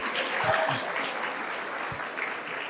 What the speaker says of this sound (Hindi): एक बार तालियां बनती है